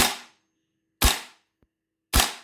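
A VFC XM16E1 gas blowback airsoft rifle cycles without BBs: three sharp, loud bolt-cycling cracks about a second apart, each with a quick decaying tail, and a faint tick between the second and third.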